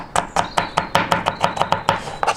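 A knife chops through pork on a cutting board, about a dozen sharp, steady strikes close and clear, with no talking.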